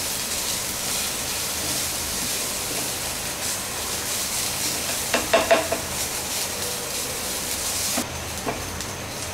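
Chopped ginger and garlic fry in a pan with a steady, close sizzle, broken midway by a few brief clinks and scrapes of stirring.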